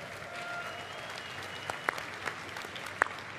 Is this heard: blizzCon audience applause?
yes